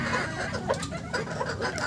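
Sonali hens clucking on a small poultry farm, soft overlapping clucks and short calls over a steady background murmur, moderately near.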